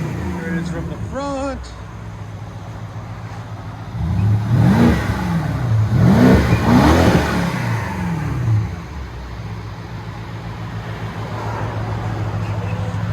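Heard from the front of a BMW 650i xDrive convertible, its 4.4L V8 with a Vibrant resonator or straight-pipe exhaust idles low, then climbs through a cluster of loud revs before dropping back to a steady rumble.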